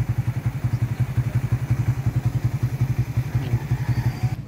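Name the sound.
Raider 150 motorcycle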